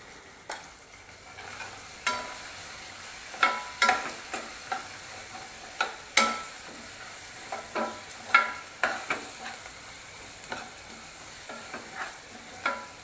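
Tomatoes and turmeric, with onion, fry in a pan for chana dal pulao while a spoon stirs; sharp scraping clinks recur irregularly over a steady soft sizzle, close and moderately loud, with no talking.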